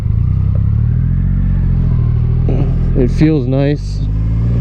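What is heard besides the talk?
2020 Triumph Rocket 3 R motorcycle engine pulling away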